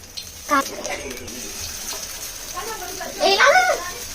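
Chili powder and other ingredients for rasam are tipped into hot oil in a pan, giving a steady hiss with two brief louder bursts of sizzling and a voice talking over it.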